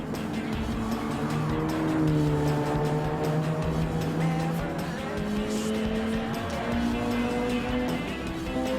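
A Ford Escort RS race car in Gran Turismo 7 drones steadily through a chicane, its engine note rising and falling at close range with a faint squeal of tires and no talk over it.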